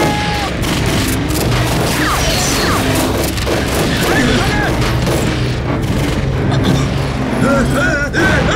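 A rapid gunfight in an anti-Japanese war action film with a woman sniper surrounded by Japanese troops: repeated sharp shots and crashing impacts pile up continuously, with shouting voices mixed in.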